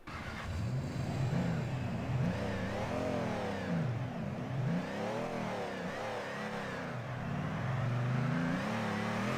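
A Nissan GT-R in the drift game Torque Drift revs continuously, its engine pitch swinging up and down in repeated waves, loud and steady for the whole stretch.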